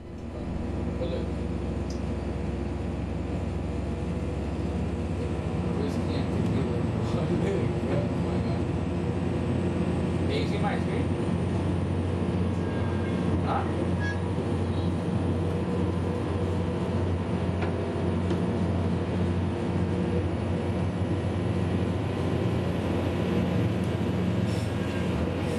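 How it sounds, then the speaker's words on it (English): A Caltrain MP36 diesel locomotive revs up with a deep, sustained engine drone and rumble heard from on board, steady and loud for the full length, with faint rattles and clanks along the way. "Let's hear this MP36 rev up!"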